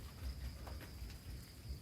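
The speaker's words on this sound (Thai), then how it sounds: "ฝนก็ตกอยู่เลย" Steady rain falling outdoors at night in Thailand, a soft continuous hiss with low rumbling underneath and a faint insect-like drone, distant and quiet with no one talking.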